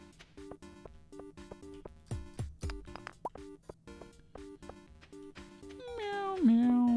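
In the game Stardew Valley, a cat meows once, a rising, drawn-out cry near the end over plinking, rhythmic game music with soft plopping effects.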